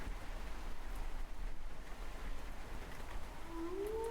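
A wolf howl sound effect rising faintly near the end, a thin gliding tone sitting well back behind a constant wash of rain-like hiss.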